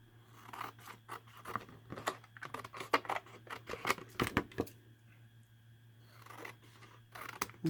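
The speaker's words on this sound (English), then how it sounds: "I just need to cut around here, leaving a nice seal around there and not cutting into that air pocket" Scissors snip around a laminated page marker with a rapid run of sharp, close cutting clicks, pausing briefly before a few more snips.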